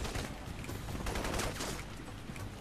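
Continuous rapid gunfire in Crysis Warhead, dense overlapping shots forming a steady, loud barrage that runs throughout with no talking.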